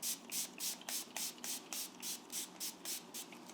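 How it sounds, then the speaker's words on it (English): Conductive spray hisses onto skin during an organic facial in quick, even bursts, about a dozen soft pumps in a steady rhythm, close and quiet. "I'm going to use my conductive spray."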